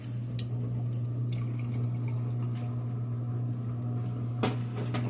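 Cooking oil is poured off from a skillet after frying pork steaks, a thin liquid trickle with a few drips over a steady, low kitchen hum.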